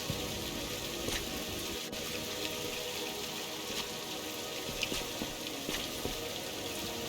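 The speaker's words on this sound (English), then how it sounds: "Yeah, I know. Rain." Rain falls in the Viewfinder video game as a steady, dense hiss with scattered drop-like ticks, continuing evenly throughout with no talking.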